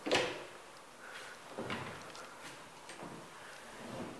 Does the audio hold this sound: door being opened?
yes